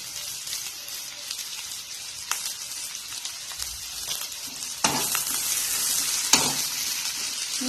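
Onions frying with salt in a pan for a soya masala with coconut milk: a close, steady crackling sizzle with occasional stirring scrapes, swelling louder and denser toward the end.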